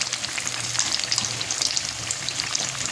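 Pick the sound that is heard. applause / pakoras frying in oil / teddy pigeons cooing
pakoras frying in oil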